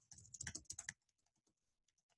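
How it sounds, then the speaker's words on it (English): Rapid typing on a computer keyboard, a dense close burst of clicking keystrokes for about a second, then fainter scattered key taps trailing off. "I hate the sound of keyboards."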